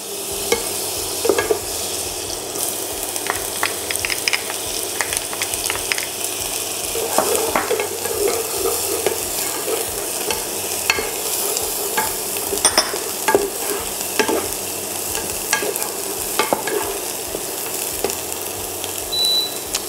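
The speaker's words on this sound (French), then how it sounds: "je vais y faire rissoler mes petites échalotes" Shallots frying in melted butter in a saucepan, a steady close sizzle with frequent stirring scrapes and spoon taps throughout, no talking.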